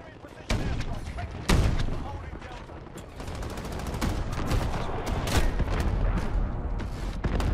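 Heavy gunfire from Call of Duty Modern Warfare Ground War on the Krovnik Farmland map: sharp loud shots, then sustained rapid bursts of automatic fire that keep going, close and dense.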